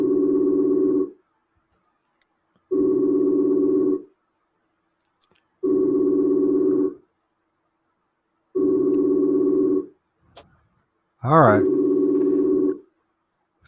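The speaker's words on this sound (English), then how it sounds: "It's nothing like listening to the phone ring all the time." Phone ringback tone on an outgoing call: five long, evenly spaced rings with silent gaps between them, loud and clear, with a brief spoken remark near the end.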